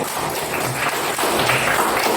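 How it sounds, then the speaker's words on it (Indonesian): A primary school class gives a short, dense round of applause that fills the room evenly for a couple of seconds. "Tepuk tangan untuk Alin."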